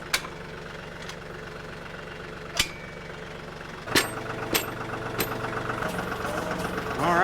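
A small tractor's engine idles with a steady low chugging rumble, broken by several sharp clanks and knocks from nearby equipment, and someone speaks briefly.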